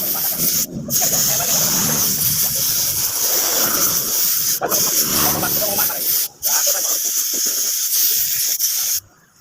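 Loud bursts of hissing spray from a can of cleaner onto a motorcycle, repeated about three times with brief pauses between them, up close.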